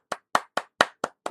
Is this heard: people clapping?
yes